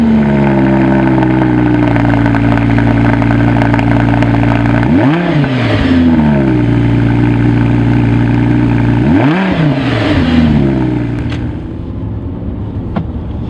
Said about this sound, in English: let's just start the car up and see what it can do